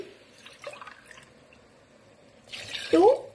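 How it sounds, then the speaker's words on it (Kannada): Two glasses of water poured onto one glass of rice for a soya vegetable palav make a short, close splashing burst near the end, after a quiet kitchen stretch with faint drips. "1 ಗ್ಲಾಸ್ ರೈಸ್ಗೆ 1:2 2 ಗ್ಲಾಸ್ ವಾಟರ್ ಹಾಕ್ತಾ ಇದ್ದೀನಿ"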